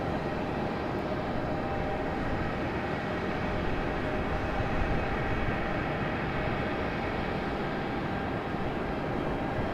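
A Delta Airbus A321 jet departing Raleigh-Durham International Airport makes a steady, broad roar that stays even and fairly distant throughout, with no voices over it.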